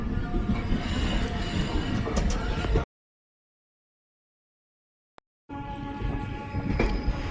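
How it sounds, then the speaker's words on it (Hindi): Passenger express train pulling into Gomti Nagar railway station in Lucknow, a steady loud rumble of rolling wagons that cuts out abruptly midway and resumes after a silent gap with one brief click. "ट्रेन अब पहुंच रही है गोमती नगर रेलवे स्टेशन पर।"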